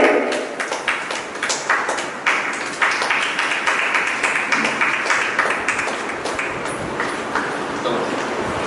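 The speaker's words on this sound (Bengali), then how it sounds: "জোরে একটা হাততালি তার জন্য।" Audience applause for a prize winner at a stage event of the Purulia contest show "Chhau Bhumir Nakshatra": steady, dense clapping from a crowd, fairly close and continuous throughout, with no one speaking over it.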